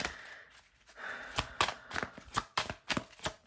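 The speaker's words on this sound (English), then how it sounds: "I'm gonna grab a couple more cards from the deck and just see" Tarot cards drawn from a deck: soft papery slides give way to a quick run of crisp flicks and snaps, close and fairly quiet.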